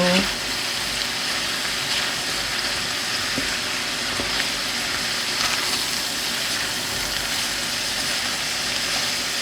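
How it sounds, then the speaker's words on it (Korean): Mushrooms stir-fry with shrimp and asparagus in a pan, giving a steady, moderately close hiss and sizzle of moisture cooking off, with a few faint clicks of utensils. "버섯도 같이 넣어줍니다 같이 볶아주세요"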